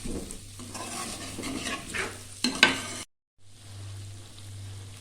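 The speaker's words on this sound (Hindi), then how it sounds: "हमारा प्याज हाफ फ्राई हो गया, उसका कलर चेंज हो गया" Onions frying in a pan for bhindi gosht, a close sizzle with stirring and a sharp spoon clatter, then a brief gap before a softer steady sizzle resumes.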